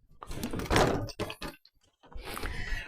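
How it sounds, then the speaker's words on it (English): A greenhouse door is pushed open in a garden, a few loud nearby scrapes, rattles and thunks separated by short pauses, with no talking. "Let's go in the greenhouse and have a look what's happening in here. If I can get through the door."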